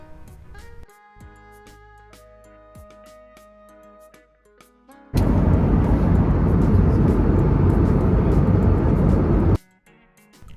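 Steady, loud roar of an airplane cabin in flight at sunrise, lasting several seconds after a quieter musical passage.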